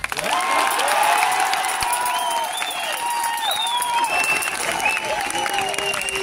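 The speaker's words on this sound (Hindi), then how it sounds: "पहली मांग अच्छा लगे तो खूब तालियां बजाना।" Crowd at a protest clapping in a dense, continuous roar, with whistles and a few shouts rising over it.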